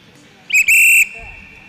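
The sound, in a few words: starter blowing a whistle at a short track skating race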